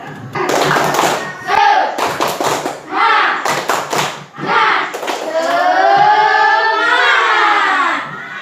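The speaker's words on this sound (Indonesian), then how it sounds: "Sebelum melanjutkan, coba kita tepuk semangat dulu ya, biar tambah semangat." Schoolchildren in an Indonesian primary classroom perform a 'tepuk semangat' chant, rhythmic bursts of group clapping mixed with loud shouted chanting voices, running close and energetic throughout.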